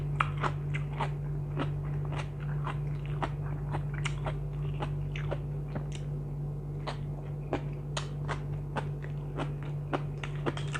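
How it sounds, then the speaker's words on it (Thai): Crunchy raw eggplant eaten with a spicy Thai seafood salad, close crisp bites and steady crunching chews repeating over a low constant hum, no talking. "มะเขือกรอบดีครับพี่น้อง"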